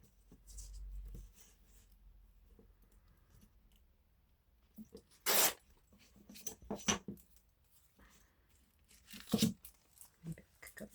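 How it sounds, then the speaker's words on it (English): A paper envelope is torn to make a junk journal window pocket, with several short sharp ripping bursts separated by quiet stretches and small handling rustles, close to the microphone. "And I might rip a bit more off the bottom."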